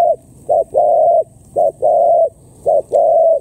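A dove coos loudly and close by, repeating a rhythmic pattern of short and long hollow notes with brief pauses, outdoors with no talking.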